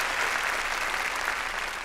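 Congregation applauding loudly in a church, a steady dense wash of many hands clapping together for the whole stretch, close and full with no talk over it.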